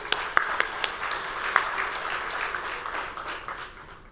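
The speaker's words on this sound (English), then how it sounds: "let's put a big clap for our today's guest" Audience applause at the opening session of a climate action forum in Bangladesh: a room of people clapping together, steady and moderately distant, with sharper individual claps standing out and slowly fading.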